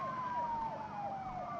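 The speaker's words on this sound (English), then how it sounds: "And I hear sirens." Police sirens wail in the BeamNG Drive driving game, a steady warbling siren sweeping up and down continuously at moderate level with no talk over it.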